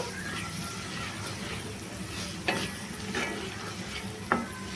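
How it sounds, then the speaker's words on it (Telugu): Masala gravy paste for a mushroom curry frying in a pan, with a steady close sizzle and occasional spoon scrapes and stirring knocks throughout. "దీంట్లో మనం పేస్ట్ చేసి ఉంచుకున్న మసాలా గ్రేవీ వేసుకుంటున్నానండి అంతా వేసుకొని ఇది బాగా ఫ్రై అయిపోవాలన్నమాట"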